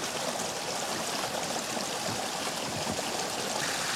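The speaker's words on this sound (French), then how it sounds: "t'entends pas le ruisseau chanter? Je l'entends couler" A stream flows steadily, its water rushing and trickling in a continuous close wash with no pauses or voices.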